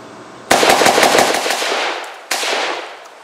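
A Molot VEPR-12 AK-type shotgun fires light loads in a quick, loud string of shots with a long echoing tail, then one more blast follows after a short pause.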